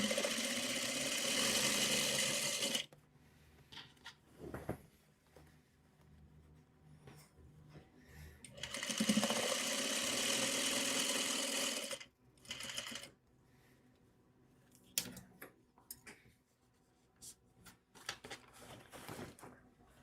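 A sewing machine runs along a long seam in two sustained whirring bursts separated by quieter pauses with clicks and handling noises, close by and moderately quiet.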